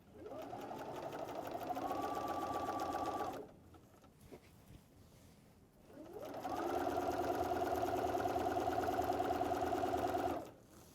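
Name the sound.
sewing machine stitching a quilted wall calendar with Velcro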